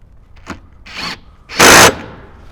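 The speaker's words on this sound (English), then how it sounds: "Just go ahead and start your bolt. And then go ahead and tighten it." A power tool tightens a bolt while an amplifier is mounted under the seat of a 2007–2018 Jeep Wrangler JK: three short, close whirring bursts, the last one longest and loudest, with no talking.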